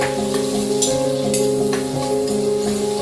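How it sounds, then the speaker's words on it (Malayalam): Onion and capsicum frying in a pan give a loud, steady sizzle with scattered crackles and stirring scrapes, continuous and close. "അതൊന്ന് മൂത്ത് വരുമ്പോൾ സവാള ചേർത്ത് വെക്കാം"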